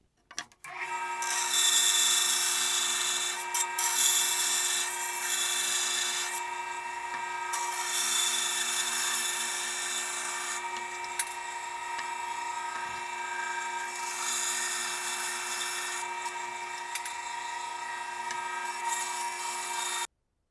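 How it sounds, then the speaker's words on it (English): A small bandsaw cuts wood for a pair of trestle sawhorses, giving a close, steady whine with rough rasping bursts that runs for about twenty seconds with no talking. "Because I have a small little bandsaw, I'm going to use my bandsaw for that."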